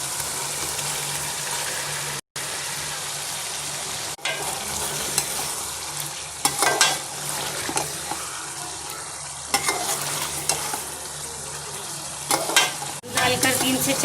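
Beef koftas and potatoes sizzle and fry in a pan of gravy while a spoon stirs and scrapes in bursts, a steady close hiss broken by louder clattering stirs.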